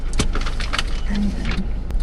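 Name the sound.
car starting to drive off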